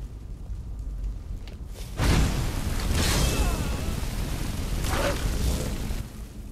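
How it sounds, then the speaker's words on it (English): A distant battle in Skyrim: muffled booms and rushing bursts of noise surge several times over a constant low rumble, with no clear voices. "Sounds like people are having a big fat battle down here."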